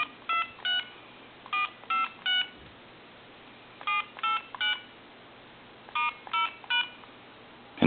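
Number keys pressed on an AT&T Mickey Mouse telephone send out touch-tone beeps in quick clusters of two or three, each beep short and clear, with brief pauses between groups and a quiet background.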